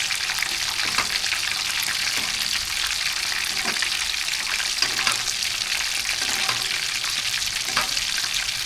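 Chicken pieces deep frying in hot oil for a homemade fried chicken, a steady dense crackling sizzle with occasional sharper pops throughout, close and continuous with no talking.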